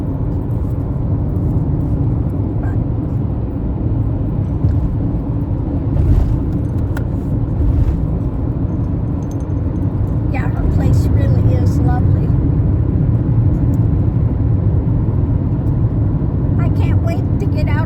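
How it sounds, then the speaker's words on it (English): A car driving in heavy traffic near SeaTac, Seattle, with a steady low road rumble and engine drone throughout and occasional passing vehicles, heard from inside the car. "Seattle area, though, the traffic is crazy."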